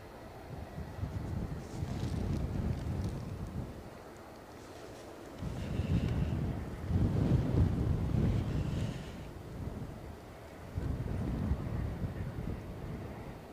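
Strong gusty wind during Storm Amy at Edinburgh Airport buffets the microphone in rising and falling roaring waves, loud and close, with no talking.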